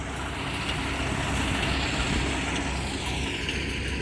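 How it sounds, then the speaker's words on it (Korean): A bean threshing machine working in a field runs with a continuous, loud, rough mechanical rumble and clatter, steady throughout with no pauses and no voices. "저 기계 안으로 콩나무가 말려 들어가는 거예요."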